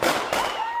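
A sharp report from a shooting during a police traffic stop beside a blocking SUV, a loud burst with a second crack a moment later, echoing briefly in news footage.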